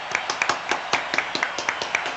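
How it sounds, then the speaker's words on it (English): Sparse clapping from a small group reacting to Spain's Eurovision 2025 entry, a loose rhythm of roughly a dozen claps at moderate volume, close by and without talk. "That deserves a round of applause."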